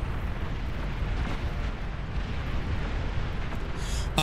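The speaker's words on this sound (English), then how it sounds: "you're firing at a shield" Constant roar of weapons fire hitting a shield in the strategy game Beyond All Reason, a dense rumbling barrage of blasts and pops that stays loud and unbroken throughout.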